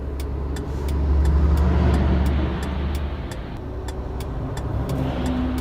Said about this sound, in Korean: 어, 큰 차가 오고 있네.